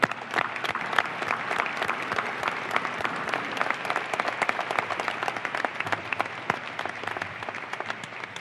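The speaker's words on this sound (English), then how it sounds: "I'd like to acknowledge him now with a round of applause" A round of applause from the audience at a company annual business meeting, steady dense clapping that fills the hall for several seconds without pause.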